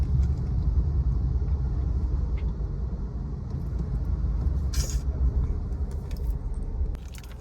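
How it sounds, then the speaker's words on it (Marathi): Heavy road traffic on the Mumbai-Pune expressway, heard from inside a Polo car as a deep, constant engine and tyre rumble with a few brief rattles and jingles nearby, and no talking. "अरे यार खूप ट्रॅफिक आहे"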